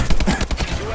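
AK assault rifle in Call of Duty: Advanced Warfare firing a rapid burst of loud, close shots in an even rhythm, with a voice talking faintly underneath.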